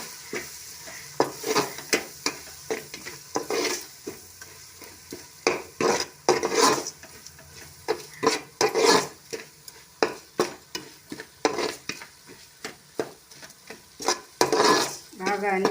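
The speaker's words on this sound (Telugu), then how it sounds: "అన్నీ కలిపెట్టుకోవాలి." Turmeric and coriander powder stirred into Nellore-style streaked spinefoot fish curry masala, a sequence of rhythmic scrapes and knocks of a spoon in the pot over a soft sizzle, close and fairly loud, with no talk.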